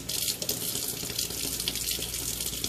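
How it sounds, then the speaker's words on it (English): Cold water running steadily from a kitchen tap into a sink while beets are rinsed and rubbed clean for pickling, a continuous close splashing flow with no talk. "I usually run a little bit of cold water"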